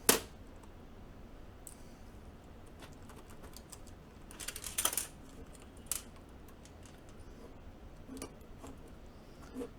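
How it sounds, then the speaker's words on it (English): Keycaps are pulled off a JD40 mechanical keyboard kit one after another, giving sparse, faint plastic clicks and ticks, with a louder snap at the start and a small cluster of clicks midway. "Okay, now that I've put the keycaps in the places that I want them, I'm going to pull them out."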